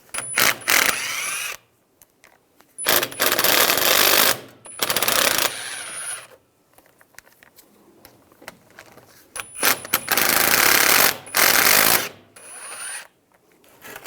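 An 8mm socket tool backs out three small bolts from a rear backing plate on a 2011-2018 Ram 1500, in loud bursts of rapid mechanical rattling and ratcheting separated by quiet pauses.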